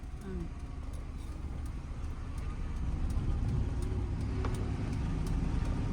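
A car creeping forward on half clutch in bumper-to-bumper traffic, a low engine rumble that grows slightly louder as it pulls away, with a voice talking over it.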